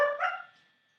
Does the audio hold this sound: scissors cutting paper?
no